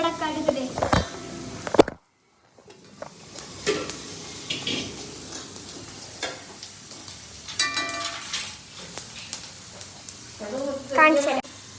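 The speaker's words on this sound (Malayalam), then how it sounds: "നമ്മൾ ഇളക്കിക്കൊണ്ടിരിക്കുകയാണ്." A spoon stirs food in a pan, likely with mustard seeds. Irregular scrapes and clinks of the utensil against metal sound close and moderately loud, with a short silent gap early on and some talking in the background.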